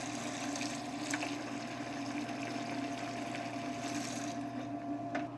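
Steady water flowing during a tankless water heater flush, with a pump humming and water running back into a bucket, a continuous moderately quiet wash of sound with faint clicks.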